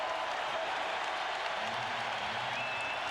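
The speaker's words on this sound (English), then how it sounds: "As the crowd turning up the volume." A basketball arena crowd at a 1996 NBA playoff game between the SuperSonics and Rockets roars and applauds in a dense, sustained wash, heard from a distance with a faint whistle-like tone on top.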